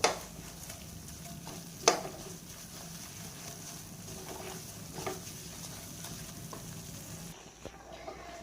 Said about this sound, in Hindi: बेसन डालने के बाद अच्छे से हमने इसे भूनना है। आँच हमने हल्की रखनी है।